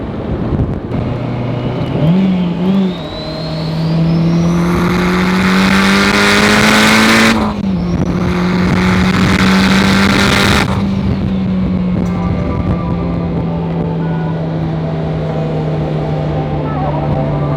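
A turbocharged Honda S2000 accelerates hard on a test pull, its engine loud and close, the pitch climbing steadily through the gears with brief drops at each shift before easing off.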